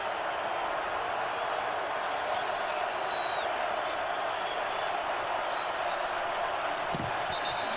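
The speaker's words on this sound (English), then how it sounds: "The crowd comes to life." Football stadium crowd at Lambeau Field during a Dallas Cowboys vs Green Bay Packers game, a broad steady roar that swells across the whole stretch, with a sharp thump near the end.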